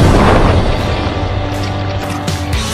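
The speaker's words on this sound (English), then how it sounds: "Grenade." A grenade going off in Fortnite Battle Royale: a loud, heavy boom at the start that decays into a low rumbling tail over a couple of seconds.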